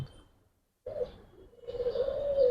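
Racing pigeons in a loft give low, soft coos close by after a brief silence, with a rising murmur of calls over a couple of seconds.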